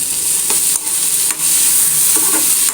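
Chillies and tamarind sautéing in a hot pan, a loud, steady sizzle with a few brief stirring scrapes breaking through, close and continuous.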